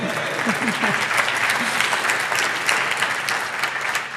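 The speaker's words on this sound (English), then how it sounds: "Yes, come on, Bradford gets a cheer." An audience at a chancellor installation ceremony applauds and cheers for Bradford, a loud, sustained burst of clapping with a few brief whoops near the start, continuous throughout.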